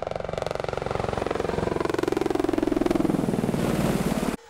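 Apache Longbow attack helicopter running steadily and loudly nearby, a rapid rhythmic rotor thump over a droning turbine whine that slowly shifts in pitch, then cuts off abruptly at the end.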